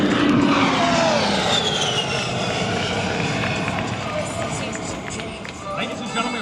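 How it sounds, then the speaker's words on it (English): An A-10 Thunderbolt II jet flies past at an airshow. A loud, continuous engine roar with a falling pitch slowly fades, and an announcer talks over it. "we hope you enjoyed this brief display of only a fraction of the A-10's full combat capability"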